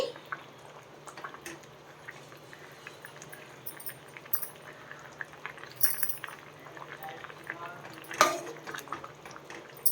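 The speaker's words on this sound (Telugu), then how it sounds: "ఉడకనివ్వాలి ఇలా మూత పెట్టేసి" Mango pulusu simmers in a covered pot, a faint steady bubbling broken by scattered small clinks and taps of the lid and utensils.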